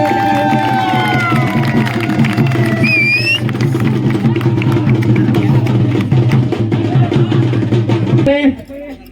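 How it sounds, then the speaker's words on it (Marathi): A crowd at a village cricket tournament final prize ceremony cheers and claps in a loud, continuous roar mixed with shouting voices, which cuts off abruptly near the end. "टाळ्या टाळ्यांचा भरीमार करू"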